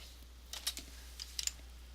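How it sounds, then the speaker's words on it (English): A handful of faint computer keyboard keystrokes, typing a short entry and pressing enter, sound as soft scattered clicks in a quiet room over a low steady hum. "So I'm going to click over here and type in CD,"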